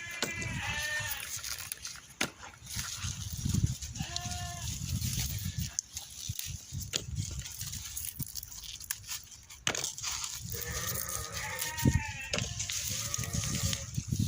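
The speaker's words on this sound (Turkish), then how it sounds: "koyunlar bağırmaya başladı yine." Sheep bleat repeatedly in wavering bursts, several animals calling at once, over a busy background of rustling and clatter.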